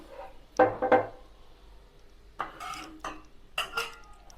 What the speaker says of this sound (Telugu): ఈ వాటరు ఈ పిండి వేసేసుకొని ఉండలు లేకుండా కలిపేసుకున్నాం